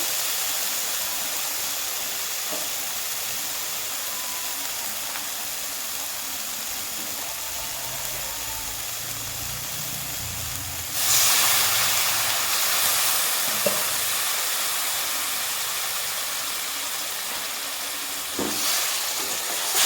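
Water hitting hot Kashmiri chili powder masala in a pan sets off a continuous steamy sizzle and hiss, which jumps louder partway through and again near the end, with no talking.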